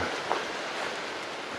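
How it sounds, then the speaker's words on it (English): Light rain falling in the Smoky Mountains woods, a soft, steady hiss of drops on leaves and ground throughout, faint and close with no voices. "Bit of rain falling."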